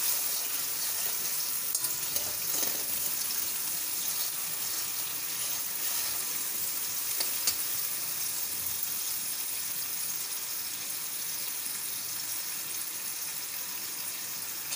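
Sugar melts in a hot pan for khaman dhokla, giving a steady, faint hiss and sizzle with small crackles, continuous and alone.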